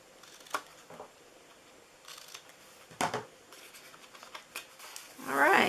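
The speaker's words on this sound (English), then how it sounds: "And then we're cutting these two also on the corner. I'm going to cut in on here." Scissors snipping into the corners of a paper party-favor treat box, a few short crisp cuts spaced apart, with a denser rustling snip near the end, close and fairly quiet.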